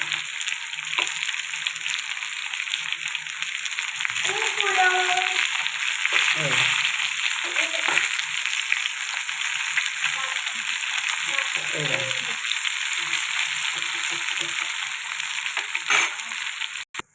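Onions and brinjal fry in oil in a pan with a steady, continuous sizzle, while a few brief voices or clatters surface now and then over it.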